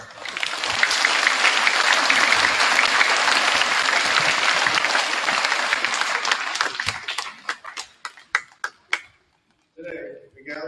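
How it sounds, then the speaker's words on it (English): Audience applause at a Veterans Day ceremony, sustained clapping from a large crowd for about seven seconds that tapers into a few scattered claps, followed by brief silence and then a voice. "Let's give them a round of applause."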